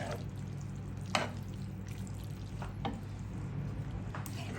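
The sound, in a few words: stirring pasta in coconut milk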